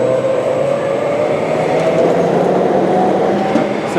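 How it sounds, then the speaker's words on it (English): Coffee beans rushing through a pneumatic line into the hopper of a coffee roaster, a steady loud whooshing roar with a continuous rattling hiss that holds constant throughout, with no talking. "So the coffee is being blown in there."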